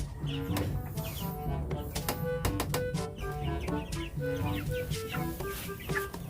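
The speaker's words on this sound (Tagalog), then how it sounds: "Meron tayong mga alagaang manok." Chickens cluck and squawk close by, several birds calling in overlapping bursts over steady farmyard background noise.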